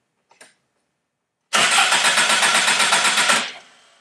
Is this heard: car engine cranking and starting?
yes